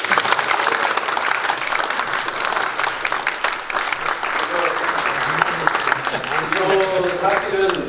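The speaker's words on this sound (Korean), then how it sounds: "이 순간에 박수 한번." An audience at a wine lecture applauds a sponsor as champagne bottles are presented. The clapping is loud and continuous, with voices and crowd murmur mixed in toward the end.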